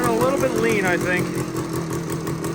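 A 1980 Suzuki TS185 motorcycle engine with a fresh top end idles and revs briefly, its pitch rising and falling, revs hanging up slightly, before settling back into a steady idle.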